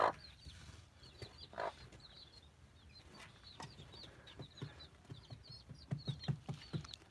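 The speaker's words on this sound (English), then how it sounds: "this chicken here is not actually a laying hen, she is a game hen" A game hen clucks softly in a small garden enclosure, with scattered low clucks growing denser toward the end, a brief louder squawk early on, and faint chirping birds in the background.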